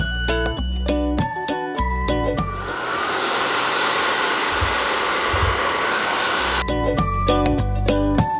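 A hair dryer blows hair dry, a steady loud whooshing roar lasting several seconds, with tinkly music playing before and after it.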